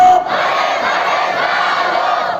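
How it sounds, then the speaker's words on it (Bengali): A large crowd roars in loud unison, a sustained massed shout of the takbir chant held steadily for a couple of seconds, close and dense with no individual voice standing out. "জোরে একটা তাকবীর দিবেন, নারায়ে তাকবীর, লিল্লাহি তাকবীর"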